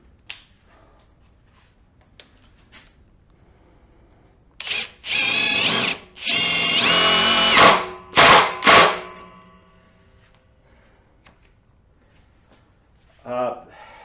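A Ridgid Octane impact driver running in bursts, a loud close whirring rattle of hammering impacts lasting a few seconds at a time with short pauses between, quiet gaps before and after with occasional handling clicks.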